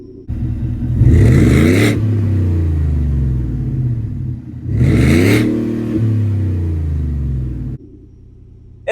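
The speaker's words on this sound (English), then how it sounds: "you double click and hold the remote start. The side mounted exhaust roars to life." Roush supercharged 5.0 V8 in a 2023 Ford F-150 with side-mounted exhaust, started by remote: two loud revving bursts through the exhaust, each settling into a deep steady rumble, then dropping to a quieter idle.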